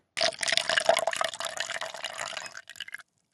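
Water pours from a small container in a quick splashing, trickling stream, near and clear, lasting a few seconds before stopping with a couple of final drips, as pretend drink for a toy bear.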